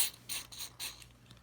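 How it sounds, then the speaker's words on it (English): Buttons on a broken Colecovision Super Action Controller being pushed repeatedly after a contact-cleaner spray, giving close, dry scratchy clicks in a quick uneven rhythm. "push the button a little bit"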